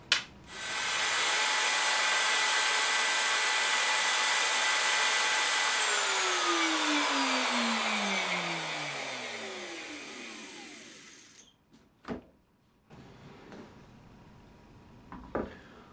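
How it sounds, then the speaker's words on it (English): Handheld router cutting a wood inlay around a pattern with its guide bushing removed for the positive piece, a loud steady high-pitched whine for about eleven seconds that slowly drops in pitch as it bogs, then cuts off, followed by faint clunks. "When you're routing the positive side of the inlay"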